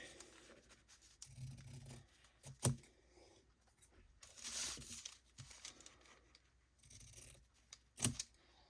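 Scissors make a few quiet, scattered snips while trimming the fabric corners of a journal cover, with soft rustling and crinkling of material between the cuts.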